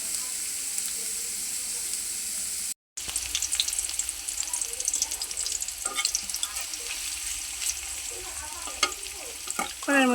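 Onions frying in hot oil in a wok, a steady close sizzle with clattering stirs and scrapes throughout, broken by one brief silent gap early on.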